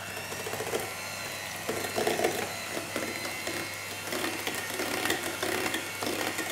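Hand beater whisking cream cheese filling for a sugar-free mocha cheesecake, a steady mechanical whirring and clattering that continues throughout with no talk.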